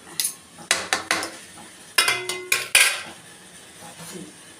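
A ladle repeatedly scraping and knocking against a cooking pot of chicken sukka, about nine sharp metallic clanks in two quick bursts, close and loud, each one ringing briefly before fading.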